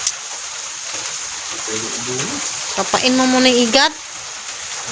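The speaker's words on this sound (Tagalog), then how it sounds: "Lakas na ng ulan." Heavy rain pours down steadily during a flood, a dense, loud hiss filling the background while people talk over it nearby.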